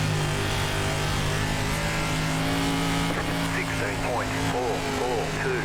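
A limited late model race car's engine in iRacing Dirt at Volusia Speedway Park, droning steadily as it drives through the slick, with other engines faintly revving behind; a voice talks over it.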